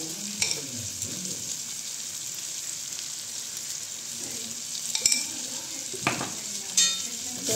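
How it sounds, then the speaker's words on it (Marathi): Wild vaghati vegetables sizzle steadily in a clay pot while a spoon scrapes and stirs, with a few louder clinks against the pot and no talking. "तर आता मिक्स करून घेऊ."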